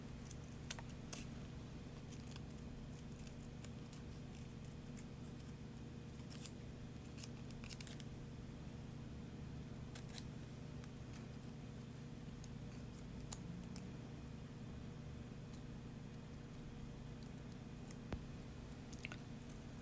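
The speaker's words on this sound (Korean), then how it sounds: "조심조심 자르고 있습니다." Scissors make soft, sparse snips while cutting paper for a diary page, faint and close over a steady low hum, with small crisp cuts scattered across a long quiet stretch.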